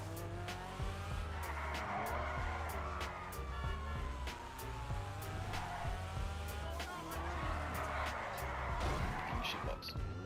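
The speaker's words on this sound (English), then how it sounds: "Why can the standard tyres do better drifting than the fucking low grip ones?" A car drifts in GTA 5, its tyres squealing and skidding in long wavering screeches over a revving engine, with repeated clicks and no talking.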